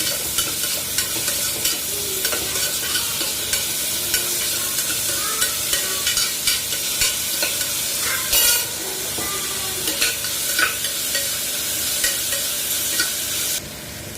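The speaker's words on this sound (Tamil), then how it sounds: "மஞ்சத்தூள் கொஞ்சம் போட்டு நல்லா வதக்கி விடுங்க." Beetroot and onion frying with turmeric in a pan for beetroot kulambu, loud close sizzling with repeated spatula scrapes and clacks in a steady stirring rhythm, easing slightly at the end, no one speaking.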